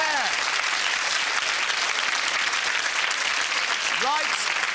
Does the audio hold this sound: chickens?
no